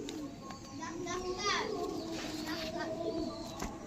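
A long-sized Allahabadi Chiniya pigeon coos softly in the background while people talk nearby, with children's voices and other chatter partly masking the low throaty calls.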